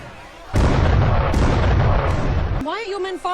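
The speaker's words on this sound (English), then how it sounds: "Why are your men firing on their own ship?" Cannon fire from a fort at ships, a loud sudden boom followed by a sustained rumbling barrage with repeated blasts, then a voice speaking as it fades.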